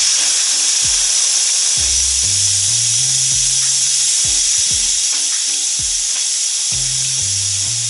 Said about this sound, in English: Got a good bit of pressure coming out of there.